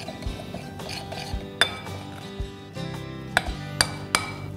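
Prawn marinade of lemon juice and chopped coriander being mixed in a kitchen bowl, with scattered clinks and taps of a utensil against the dish, some sharp and close, over a quiet background.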